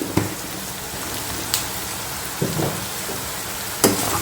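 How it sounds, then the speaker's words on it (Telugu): Onions fry in a pan for an onion chicken fry, giving a steady, loud crackling sizzle like rain, broken by a few sharp clinks of stirring. "ఆనియన్ అనేది మంచి ఈవెన్గా ఫ్రై అవ్వాలి"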